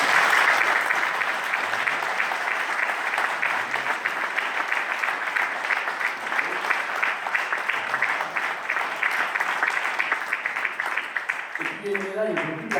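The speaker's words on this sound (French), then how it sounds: "donc vous pouvez l'applaudir." An audience claps at a French New Year's medal ceremony, a dense, steady round of applause that stays loud and even for about twelve seconds before fading as someone begins to speak.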